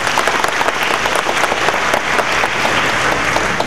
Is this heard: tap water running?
no